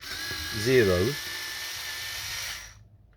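An electric screwdriver set to low torque, fitted with a PZ0 bit, unscrews pickguard screws on a Squier Classic Vibe 60s Jazz Bass, giving a close, steady high whine for about two seconds before stopping, with a brief voice near the start.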